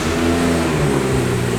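A BMW car engine runs and revs steadily at close range, a continuous mid-low engine drone that swells slightly without any audible talk over it.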